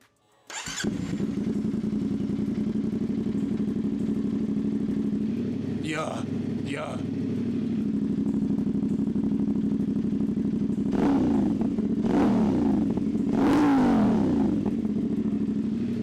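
A CFMOTO 450SS sport motorcycle engine with a flashed ECU cranks and fires up, settling into a steady rumbling idle, then gets revved hard a few times; someone briefly speaks near the end.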